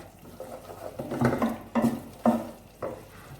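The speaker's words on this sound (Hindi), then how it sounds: "फ्लेम थोड़ी सी तेज करते हैं और इसे अच्छे तरीके से भूनते हैं।" A masala of finely chopped tomatoes and onions fries for Hyderabadi khatti dal, stirred in the pan with close, rhythmic scraping strokes every half second or so over a soft steady sizzle, with no talking.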